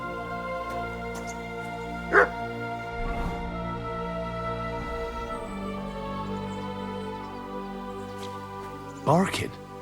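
A dog barks twice in Kingdom Come: Deliverance II, short sharp bursts spaced several seconds apart over a steady game ambience with music.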